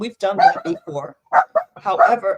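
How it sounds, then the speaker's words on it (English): A pet dog at home gives a few short barks mixed in with a woman's close, steady talking. "I'm sorry, that's my dog"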